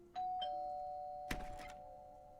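A doorbell rings indoors, two bright chime tones sounding in quick succession and lingering, followed by a brief rattle, with no voices.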